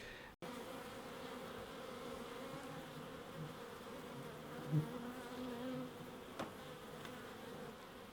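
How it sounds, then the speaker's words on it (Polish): Agitated honeybees buzz at an opened hive, a close, continuous droning hum that rises in brief louder swells, with a sharp knock near the start. "Pszczółki się niepokoją."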